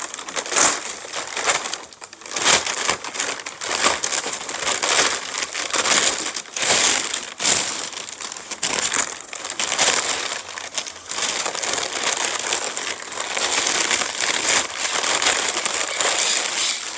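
Packaging crinkles and crumples continuously as items are unpacked from a medium-sized box, loud, close and irregular, with bursts of crackling rustle throughout and no talking.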